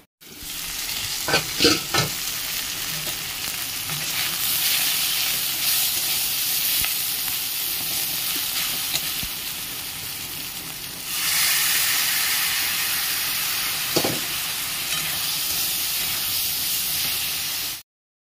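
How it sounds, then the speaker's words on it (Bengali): Meat and onions fry in a little oil, making a loud, continuous hissing sizzle with a few clattering stirs at the start; the sizzle swells louder about two-thirds of the way through. "মাংস পেঁয়াজটা ভাজতে দিয়েছি"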